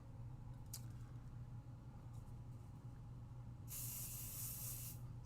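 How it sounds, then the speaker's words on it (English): A spray bottle gives one long, steady hiss of spraying, close and fairly loud, after a quiet stretch with a faint low hum underneath and no talking. "Spray it one more time."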